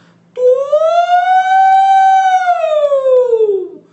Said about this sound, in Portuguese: Uma ambulância se aproximando.